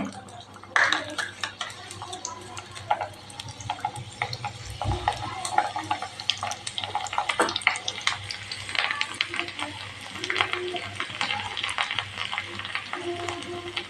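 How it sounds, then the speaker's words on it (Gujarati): Chopped garlic sautéing in hot ghee for Punjabi palak paneer, a steady close crackling sizzle throughout with occasional stirring and utensil clinks. "જે આપણે લસણની કટકી કરીને રાખેલી એ આપણે અહીંયા સાતળવાની છે"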